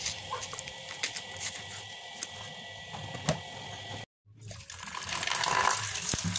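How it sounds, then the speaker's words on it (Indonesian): Running tap water splashes over peeled cassava being washed by hand, a steady close hiss with small clicks and knocks, briefly cutting out before resuming louder. "lalu cuci singkongnya dengan air yang mengalir"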